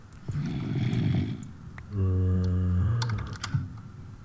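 A computer keyboard's Shift key is tapped repeatedly, setting off the Windows sticky keys alert: a few soft clicks, then a sustained electronic beep tone over a low rumbling background, with a couple of sharp clicks after it.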